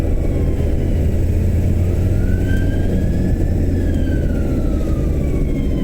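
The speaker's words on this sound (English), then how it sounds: "there's a fucking fire engine" A fire engine passes along a narrow street, heard as a steady loud engine rumble with a faint siren wail rising and falling above it; no talking.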